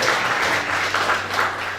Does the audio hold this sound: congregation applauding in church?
yes